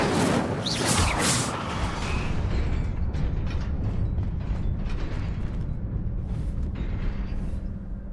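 Fiery spell burst in the video game Hogwarts Legacy, a loud roaring whoosh that opens strongly and then settles into a sustained crackling rumble with creaks, with no talking.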